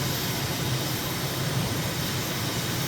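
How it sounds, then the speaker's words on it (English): Simulated airliner climbing out after takeoff from N'Djamena, Chad, in Microsoft Flight Simulator, with gear and flaps retracted; a steady, loud, broadband jet engine roar holds constant throughout without variation. "we're taking off to the northeast"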